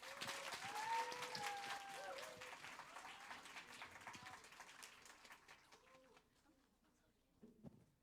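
Applause greets student project leaders as they come up to present at a homeschool festival, loud at first and thinning out over several seconds to sparse claps and near quiet.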